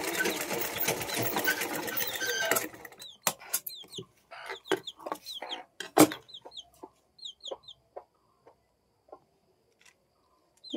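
A sewing machine stitches along a fabric corner with a fast, close, steady whirr for a couple of seconds and then stops. Afterward, chickens cluck softly nearby amid a few light taps.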